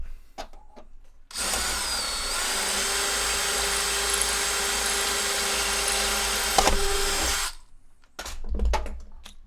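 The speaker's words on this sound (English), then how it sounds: "Hang on, we riveting?" A power tool whirs steadily at high speed for about seven seconds during riveting, loud and continuous, with brief handling clatter before and after.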